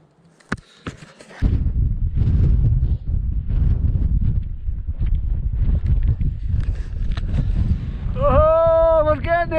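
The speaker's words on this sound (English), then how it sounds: "Chilly wind though." Chilly wind buffeting the microphone on a Scottish mountain summit, Buachaille Etive Mòr, a loud continuous roar with a few clicks before it, and a voice speaking briefly at the end.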